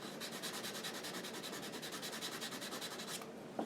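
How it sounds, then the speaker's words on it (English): Rhythmic back-and-forth sanding strokes rasp steadily against wood, close and fairly quiet, with no voices. "It's almost gone by just sanding this over here."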